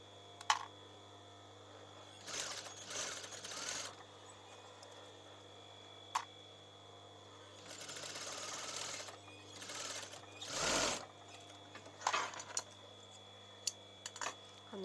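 Sewing machine stitching a seam on a reversible top, several short whirring bursts of stitching separated by pauses, faint and close amid a steady background hum and occasional small clicks.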